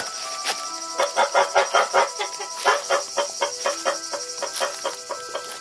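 Two geese honk and cackle close by in a rapid, uneven string of harsh nasal calls, loud and alone with no talk.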